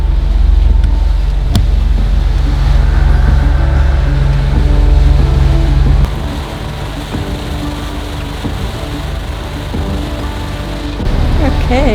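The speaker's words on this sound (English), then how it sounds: "We're motor sailing, and normally we'd be at 6 knots," Sailboat motor sailing at sea on passage toward Cape Town, a steady loud low engine drone with rushing wind and water, dropping slightly in level midway and continuing without speech.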